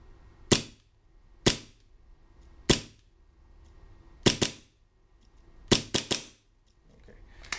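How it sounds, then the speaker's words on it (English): Short stroke gun firing about eight sharp, loud shots in an irregular rhythm, some in quick pairs, close by with quiet gaps between. "Whereas this short stroke gun, let's watch the blowback."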